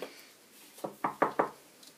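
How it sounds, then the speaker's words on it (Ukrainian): Knuckles rap on a wooden dormitory room door, one soft tap and then four firm knocks in quick succession, close and clear in a quiet room. "Стукає, це може бути гость."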